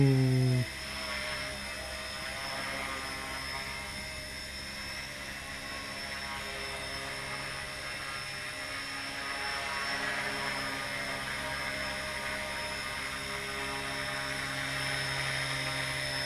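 An Align T-Rex 150 V1 small RC helicopter flies indoors in a house, its rotor and motor giving a steady, close, high-pitched whine that holds throughout with slight shifts in pitch and loudness as it maneuvers.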